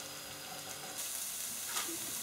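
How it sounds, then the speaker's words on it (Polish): Chopped onion sizzles in a little oil in a preheated frying pan, a steady close hiss that grows slightly louder partway through, with no voices. "Na rozgrzaną patelnię wlałam niewielką porcję oleju, wrzucam cebulkę i podsmażę do momentu zeszklenia"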